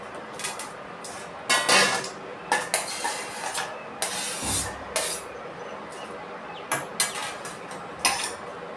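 Chopped onion being scraped from a cutting board into a bowl for kadhi pakoda, with intermittent clinks and scrapes of utensils against dishes, close and moderately loud, no talking.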